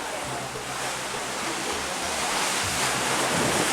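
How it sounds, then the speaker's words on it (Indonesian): Big sea waves heard from a boat make a loud, continuous roaring wash of water and wind with a low engine-like rumble underneath. "Ini ombaknya besar, guys. Jadi suaranya sama saya dikerasin ini."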